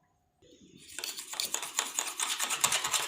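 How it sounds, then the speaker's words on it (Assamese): Eggs whisked in a bowl with salt and coriander: after a brief quiet start, a fork or spoon clinks rapidly and rhythmically against the bowl, growing steadily louder and close up. "এতিয়া মই এটো ভালকে ফেটি লম কণীটো"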